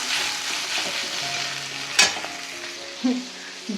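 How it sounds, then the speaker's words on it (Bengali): Green chilies fry in a pan amid a continuous sizzle, stirred with a utensil that makes sharp scraping clicks, one near the middle and another shortly after. The sound stays close, with no one speaking. "আমার ভাজা মোটামুটি কমপ্লিট আর দুটো কাঁচা লঙ্কা এর মধ্যে দিয়ে দিয়েছিলাম"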